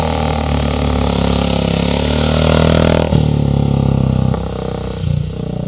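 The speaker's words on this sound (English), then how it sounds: "This is Grant Sellers, who's riding his ancient Norton 490." An old Norton 490 motorcycle climbs a hill at a hillclimb event, its engine running loud and steady with a rising rev and a sharp burst near the end. No talk is heard over the continuous engine noise.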